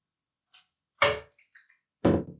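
Pork broth poured out in three short, wet splashing bursts about a second apart, each a quick pour with light dripping in between, close and fairly quiet with no talking.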